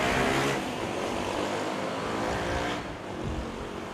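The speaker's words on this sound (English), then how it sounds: "Oh, nice short landing there." A Philippine Air Force C-130 landing at Manila airport, a steady loud roar of turboprop engines that eases slightly near the end, with no speech.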